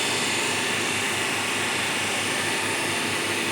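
DC motor spinning at about 1534 RPM to drive a separately excited DC shunt generator, a steady loud broadband whirring drone with a low hum underneath, unchanging throughout, no talking.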